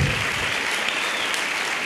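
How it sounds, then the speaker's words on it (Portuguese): A church congregation applauds during a sermon, a dense, steady clapping that fills the space evenly for the whole moment with no voices over it. "Você pode aplaudir a Ele?"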